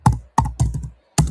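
Bursts of typing on a computer keyboard, four quick clusters of close, crisp key clicks separated by short pauses, with no voices.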